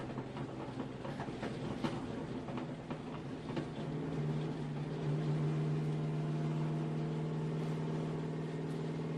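A sports car driven on a race track toward the pit, its engine giving a steady, loud drone from inside the cabin that rises slightly in pitch partway through, with no talking.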